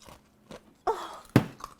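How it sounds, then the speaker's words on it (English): Nugget ice from an ECozy home ice maker is crunched between the teeth in a few separate bites, loud close crackling bursts with short quiet gaps and no talk. "I'm going to give it the ice crunch test."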